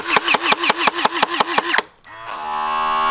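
An electric carrot-shaped toy water gun pumps in water with about nine quick, evenly spaced mechanical pulses, then pauses and settles into a steady, rising motor whir.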